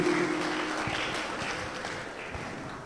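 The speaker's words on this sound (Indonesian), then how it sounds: "Tepuk tangan yang meriah buat Ibunda Hajah Luciana Kuzwini" Sustained applause from an audience at a university public lecture for a faculty dean, a steady wash of many hands at moderate level, slowly fading across the few seconds.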